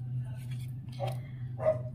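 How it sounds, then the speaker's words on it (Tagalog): A few dogs bark at a distance indoors, two short yelps about half a second apart over a steady low electrical hum and faint background voices. "Tapos may ilang doggies na tumatahol."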